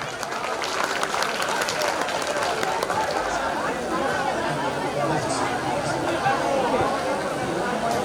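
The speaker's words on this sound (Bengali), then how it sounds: "তার জন্য একটা হাততালি হবে।" A crowd at a school's 125th anniversary ceremony applauds an honoree, a steady wash of clapping mixed with murmuring crowd chatter throughout.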